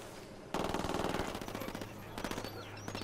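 Rapid automatic gunfire from rebel fighters in the shooter game Ghost Recon Wildlands, loud sustained bursts of machine-gun fire erupting suddenly and continuing with a second burst later, over background game ambience.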